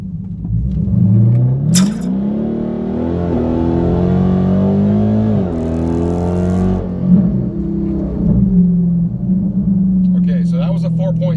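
A 2019 Dodge Challenger Scat Pack launching hard in first gear in 500 horsepower mode on Nitto tires, the V8 roaring loud and near as it revs up through repeated rising pulls with brief shift dips, followed by tire or wind noise.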